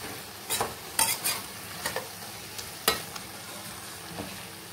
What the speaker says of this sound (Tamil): லைட்டாக மசாலாவோட அந்த பச்சை ஸ்மெல் போகிற அளவுக்கு கொஞ்சம் லைட்டாக வதக்கி வேக விட்டுக்கிடுவோம்.